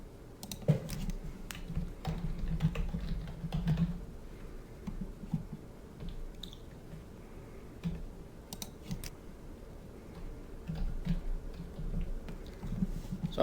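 Keys clicked on a computer keyboard in irregular bursts while line items are entered, soft close taps coming in clusters with brief pauses between them, no talking.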